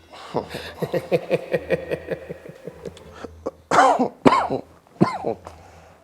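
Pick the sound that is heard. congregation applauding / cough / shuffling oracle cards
cough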